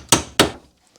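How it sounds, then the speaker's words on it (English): Two sharp, close hammer strikes about a third of a second apart drive a socket onto a rusty castle nut on a Mazda MX5 Miata track rod end, each blow ringing briefly before fading, with no talking. "mine's pretty rusty, so I'm going to hammer a socket on"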